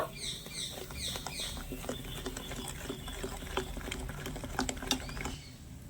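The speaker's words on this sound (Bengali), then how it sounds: "এবারে ইনোটা দিয়ে একটু ভালো করে মিশিয়ে নেব" A spoon works Eno fruit salt into a batter for an oil-free snack, making quick, wet clicking and slapping strokes in a busy, irregular rhythm close by.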